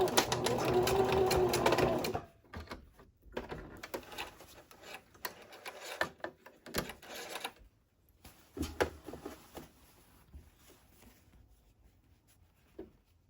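A sewing machine stitches the edges of a boho tote bag, loud and steady for about two seconds, then running in softer, broken bursts with pauses between.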